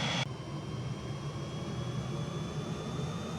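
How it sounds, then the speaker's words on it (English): An Alouette III helicopter's old jet engine in a flight simulator game drones steadily with a high whine above a deep, constant rumble, loud and continuous throughout. "The helicopter is very loud, however these old jet engines actually were very loud."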